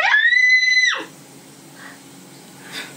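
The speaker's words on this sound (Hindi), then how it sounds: "जोर से चीख मार के" A person lets out one loud, sustained scream lasting about a second, then faint low room noise follows.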